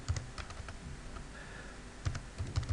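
A computer keyboard is typed on in short clusters of light, close keystrokes with a pause in the middle, fairly quiet, with no speech.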